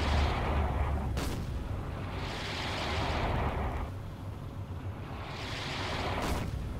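Naval gunfire from ships in the submarine game Silent Hunter 4, heavy booming blasts rolling out in a few long swells over a constant low rumble.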